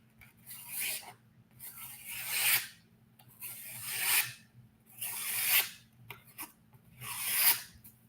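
A blade slices through paper in about six rasping strokes at an even, unhurried rhythm, close and clear, with short pauses between strokes and no talking.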